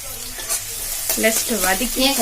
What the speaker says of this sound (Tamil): கொஞ்சம் கருவேப்பிலை அதை நல்லா கொஞ்சம் வதக்கிக்கலாம்.